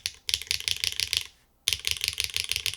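Fast typing on a Gray Studio Infinite 70 keyboard with M3 switches on an aluminum plate: loud, clacky keystrokes in two quick bursts split by a short silence, close and with no voices.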